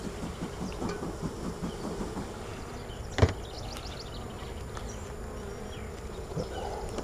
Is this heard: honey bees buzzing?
yes